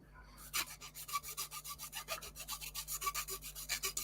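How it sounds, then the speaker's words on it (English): A hand file rasps steadily on a part while a model kit is built, sounding like plywood being sawn, with about twenty even back-and-forth strokes close up over a low hum and no talk. "It sounds like I'm sawing plywood. I'm not. I'm just doing a bit of filing."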